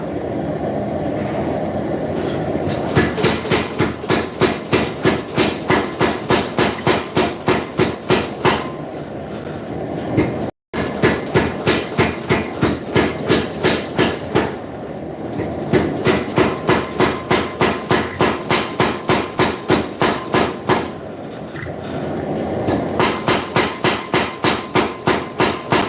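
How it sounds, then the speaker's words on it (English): A power hammer pounds hot bar stock at a forge with rapid, steady, loud blows. It runs in long bursts with brief pauses between them, and no one speaks. "So I'm heading over to the power hammer real quick."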